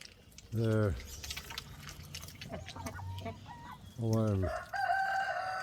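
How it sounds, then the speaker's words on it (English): Roosters crow twice, loud and close, in a muddy farmyard with ducks and hens, between them softer clucking and wet dripping sounds. "Got a bunch of roosters."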